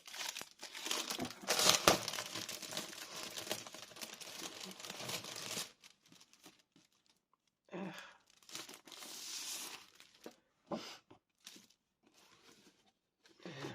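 A crinkly plastic pack of craft paper being opened, with several seconds of continuous close crackling and crinkling, then quieter scattered rustles and handling noises.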